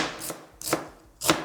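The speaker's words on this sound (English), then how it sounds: "Chopping up some pimento." A knife chops pimento on a cutting board in three sharp, evenly spaced strokes, close and loud, with no talking.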